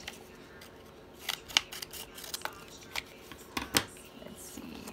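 Scissors cutting material to size while an order is packed, a series of close, crisp snipping clicks in irregular rhythm over a quiet background, with no talking.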